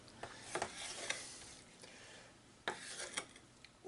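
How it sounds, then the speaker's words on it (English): A knife slicing large catfish fillets into narrow fry-size strips, soft rasping strokes on a board in uneven bursts, faint and close, separated by quiet pauses with no one speaking. "now I'm going to cut these in some fry size pieces"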